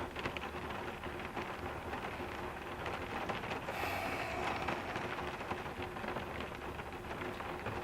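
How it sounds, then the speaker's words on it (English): Heavy rain drums steadily on a cabin roof during a storm, a dense, constant patter of drops with a faint low rumble underneath, no voices. "There is nothing better than listening to the sound of the rain on the roof here."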